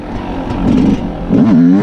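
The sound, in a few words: dirt bike engine revving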